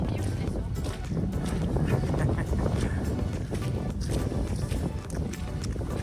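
Wind on an open fell-top walk up Wansfell Pike toward Baystones in wet, windy weather, roaring steadily and buffeting the microphone throughout with a loud, broad rush.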